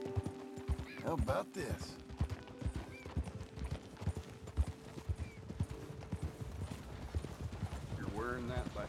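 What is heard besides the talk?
horse hooves clip-clopping and neighing, from a video game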